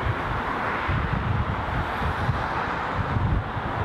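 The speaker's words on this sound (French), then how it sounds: "Et il y a du vent" Outdoor wind gusting hard against the microphone in Miami, a steady, loud low roar with no talk.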